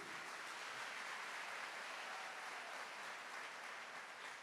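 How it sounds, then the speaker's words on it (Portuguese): An audience at a church talk applauds in a steady, dense clatter of clapping that sounds faint and distant and lasts for a few seconds with no one speaking. "Pode aplaudir."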